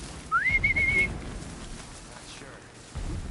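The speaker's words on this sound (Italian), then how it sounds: "Sono io a fischiare." A single rising whistle in Horizon Zero Dawn, short and clear, climbing then holding a steady note over faint rain-like ambience and low background sound.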